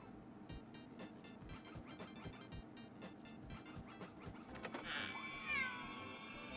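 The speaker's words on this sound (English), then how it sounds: "That's a cat." A cartoonish cat meows in WarioWare Gold on the Nintendo 3DS, a short cry rising near the end over busy, rhythmic game music and sound effects.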